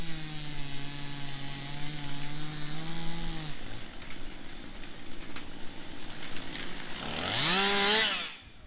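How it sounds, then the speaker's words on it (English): A chainsaw idles with a steady buzz, drops off, then revs up loudly near the end before cutting out. "And then we got our chainsaws."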